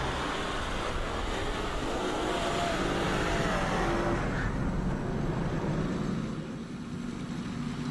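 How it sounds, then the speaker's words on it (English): A Land Rover with Dynamic Stability Control switched off slides into a skid on a snowy off-road corner under sharp throttle, a loud sustained engine roar and broadband tyre-and-snow rush that eases off toward the end. "Turning off DSC and entering a corner too fast or applying the throttle too sharply can risk the vehicle sliding into a skid"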